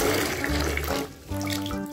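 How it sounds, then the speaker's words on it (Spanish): Water is poured into a container while preparing a hydro-dipping bath for painting sneakers, a steady rushing splash that briefly dips and resumes, with music playing underneath. "ahora sí vamos a poner el agua en este recipiente"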